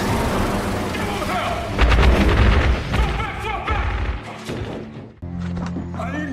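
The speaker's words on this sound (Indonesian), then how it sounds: "Namun tiba-tiba terdengar suara tembakan dari luar." Gunshots ring out from outside during a war film scene in which rebel forces arrive, heard as heavy booms and sharp cracks in a dense, loud mix with music and voices.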